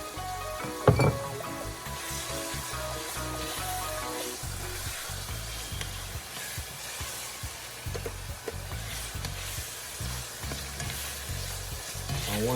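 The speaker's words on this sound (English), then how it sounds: "saute, you know, season it and get a nice little brown color" Fresh seasoning with thyme sautéing in a pan for ackee and saltfish, a continuous loud sizzle with rhythmic stirring scrapes throughout and a sharp knock near the start.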